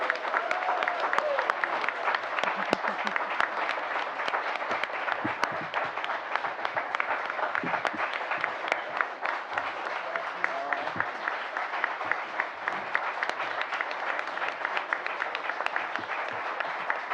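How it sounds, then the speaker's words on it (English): An audience at a livestreamed panel event applauds steadily for the panelists, a sustained, fairly distant patter of many hands clapping without letup. "So give them a round of applause,"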